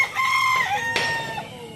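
A six-month-old Pamkin or Boboy Fernandez bloodline gamefowl rooster gives one close, loud crow that rises, holds, then drops off in a short trailing tail.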